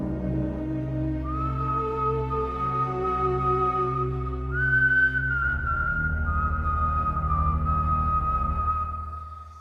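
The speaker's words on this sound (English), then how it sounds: "They'd hardly be whistling if they had." Someone outside in a corridor whistles a slow, wavering tune. The long held notes are clear and fairly close, and they fade at the end.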